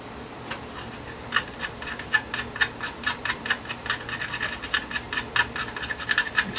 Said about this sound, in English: Scrape some of this out